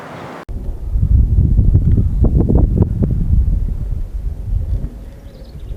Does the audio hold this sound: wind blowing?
yes